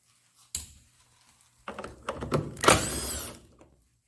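Screws on the back cover of an LG washing machine are loosened with a tool, making a sharp knock and then a run of close, scraping, clattering handling noises that swell briefly and fade.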